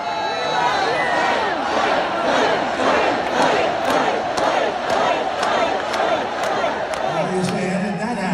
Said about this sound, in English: the crowd, well, they chanted to Trump to keep fighting